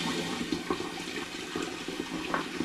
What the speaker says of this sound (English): So I'm going to get some cold water or some tepid water going in here now.